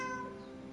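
A cat meows once in the video game The Puzzler, a short, tonal, fairly quiet mew that fades out over under a second.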